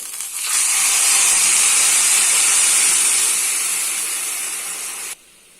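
A loud, sudden burst of sizzling hiss as tamarind water hits hot oil while making pulikaichal, roaring steadily for several seconds, then cutting off abruptly.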